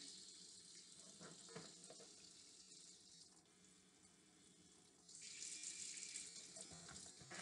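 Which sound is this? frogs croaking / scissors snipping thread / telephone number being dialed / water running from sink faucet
water running from sink faucet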